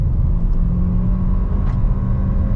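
Low, steady engine rumble from a 2023 Nissan Versa with its 1.6 liter engine pulling to speed on a highway, heard from inside the cabin with road drone, loud and continuous with no talk.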